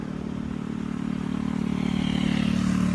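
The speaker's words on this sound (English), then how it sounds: "We're gonna let a bike go by here." A motorcycle approaches and passes along a road beside a parked 2017 Porsche Macan GTS, a steady mid-pitched engine drone that slowly grows louder over a few seconds, with no talking.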